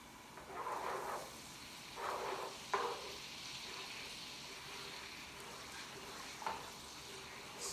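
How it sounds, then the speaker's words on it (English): Butter melts and sizzles in a pan for salmon, a faint steady fry with a few soft scraping stirs, no voices. "going to melt the butter"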